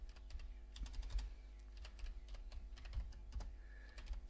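A computer keyboard clatters with quick, irregular keystrokes as a response is typed, close and fairly quiet over a low background hum, with no voices.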